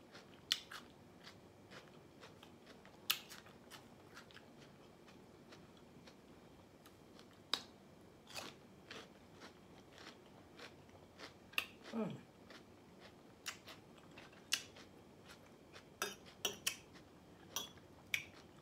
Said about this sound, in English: It's hard not to smack when you eating juicy things that got a lot of juice in them.